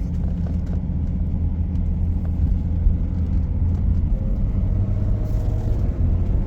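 A Mercedes 300E W124 drives on the road after nine years off, with a steady low engine rumble and road noise heard from inside the car, continuous and moderately loud, with no voices.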